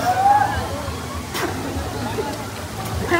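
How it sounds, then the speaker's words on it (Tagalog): A gentle river flows at the cold Bato spring resort, its steady rushing and sloshing filling the scene while voices murmur in the background. "Ito yung ilog na napakaamo."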